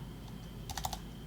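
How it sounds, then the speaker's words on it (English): Quick keystrokes on a computer keyboard during programming, a short burst of four or five close clicks over a steady low background hum. "My god, my typing."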